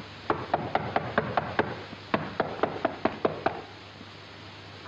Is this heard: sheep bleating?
no